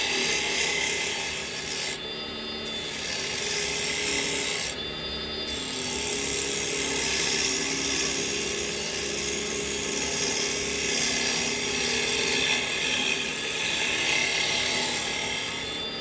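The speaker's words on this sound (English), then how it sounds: "we're getting nice little shavings coming off. And yes, we are just scraping at the moment." A wood lathe spins a bowl blank while a carbide tool scrapes the wood, giving a continuous raspy, hissing rub over a low motor hum that holds steady with brief dips, no voices.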